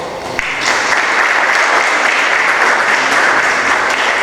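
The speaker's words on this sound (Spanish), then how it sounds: "Carolina Porley y a Susana Morreal, para quienes pido un nuevo aplauso, por favor." Audience applause at a library panel discussion, rising sharply after a brief lead-in and then holding as a loud, dense, continuous clapping.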